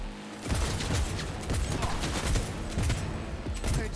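Cyberpunk 2077 gunfight: a rapid, sustained volley of loud, close shots and impacts keeps a dense, constant barrage going after a brief quiet start.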